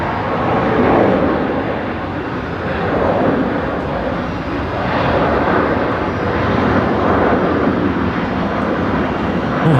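A Boeing 737 Max 8 airliner coming in to land at Brisbane Airport at night, its loud, steady engine roar swelling and easing gently over several seconds.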